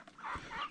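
Isa Brown chickens in a mixed farm pen with ducks and other breeds, giving a brief pair of soft, close clucks.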